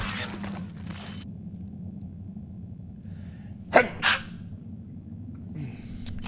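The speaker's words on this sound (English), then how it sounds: "I feel like I need to sneeze." A person sneezes twice in quick succession, sharp and close, amid quiet background hum from a video game.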